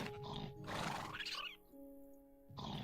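A video game horse gives a loud, shrill whinny that rises and falls over a couple of seconds, followed by a softer low snort and a lingering tone.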